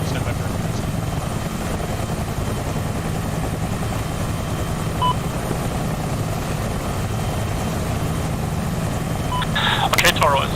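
Steady, continuous rotor and engine drone from two AH-64 Apache helicopters preparing to depart a farm in a video game, holding at an even level throughout, with a brief burst of higher-pitched noise near the end; radio voices speak over it.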